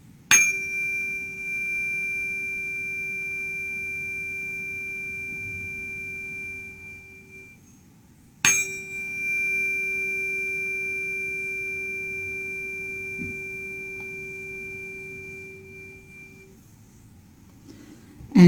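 A G tuning fork pitched at 384 Hz struck twice, each strike giving a steady pure ringing tone that sustains for about eight seconds and slowly fades, heard alone with no talk.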